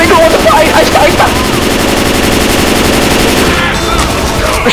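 Gunfire in the video game Left 4 Dead 2 during a versus match, loud rapid bursts of automatic weapon fire that keep going nearly nonstop, with players' voices mixed in underneath.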